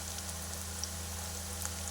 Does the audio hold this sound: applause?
no